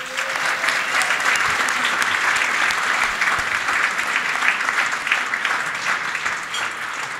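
A dinner audience in New York breaks into loud, dense applause, many hands clapping steadily and evenly for the full stretch, with a faint crowd murmur underneath.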